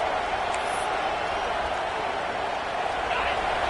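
Home crowd at a football game during the opening drive, a steady, loud roar of cheering spectators that fills the whole stretch without a break.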